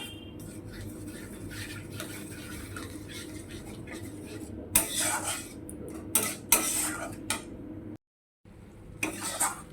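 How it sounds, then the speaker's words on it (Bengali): A spoon scrapes and clinks against a cooking pan as a spice mixture for a cauliflower and potato vegetarian dish is stirred, irregular metallic strokes over a faint steady background, with a brief silent gap near the end. "এবার ভালো করে মশলাটা মিক্স করে নিচ্ছি"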